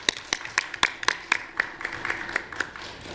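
Audience at a youth public policy forum clapping, a sparse round of sharp individual claps in a quick uneven rhythm that thins out over a few seconds, with no talking.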